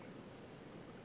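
Two quick, light clicks of a computer mouse sound close together and close up in a quiet room.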